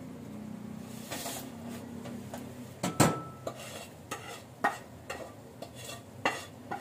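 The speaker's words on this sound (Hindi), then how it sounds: "कीमा जो है वो भून रहा है" Minced meat (keema) with turmeric, cumin and salt frying in a pan, a soft continuous sizzle broken by scattered scrapes and clinks as it is stirred, with no talk.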